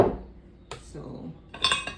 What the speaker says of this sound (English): I will begin with adding some ice to my blender